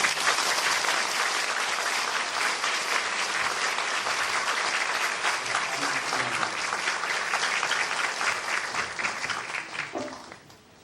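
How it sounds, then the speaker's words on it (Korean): A church congregation claps together during a Presbyterian pastoral installation and retirement ceremony. Loud, dense applause fills the room for about ten seconds, then thins and fades out at the end. "자, 우리 다 같이 박수 한번 하시죠"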